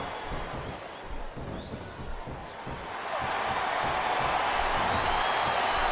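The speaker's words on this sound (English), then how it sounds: "the crowd has come alive tonight with a chant directed at the superstars in the ring" Arena crowd noise in the wrestling video game WWE SmackDown vs. RAW 2007 swells into a loud, steady roar of chanting partway through, following a quieter stretch of murmuring audience.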